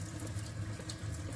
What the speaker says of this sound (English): And you're going to wash it in cold water.